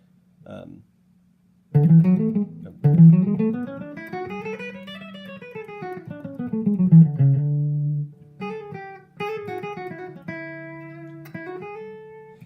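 Clean guitar notes climb up a D Lydian scale and descend again, played melodically at moderate volume, followed by a few sustained chords.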